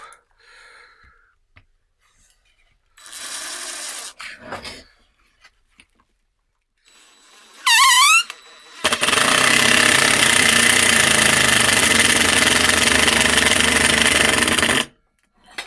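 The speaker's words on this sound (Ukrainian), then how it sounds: "І попробуємо закрутити ще один шуруп." DeWalt impact driver with a clutch bit holder driving a screw, the clutch slipping as the chuck spins; a long loud continuous whirring burst follows shorter quieter runs, close up.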